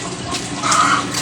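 Water runs steadily from a tap for laundry, a continuous splashing rush that swells slightly louder toward the end, close by with no talking.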